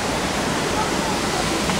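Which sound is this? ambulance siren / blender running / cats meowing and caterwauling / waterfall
waterfall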